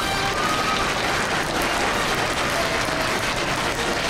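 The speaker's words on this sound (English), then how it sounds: "Let's give each and every one of them a big round of applause, boys and girls." Children and guests at an elementary school veterans appreciation assembly give the veterans a big round of applause, a loud, dense wash of clapping from a large crowd that continues without pause.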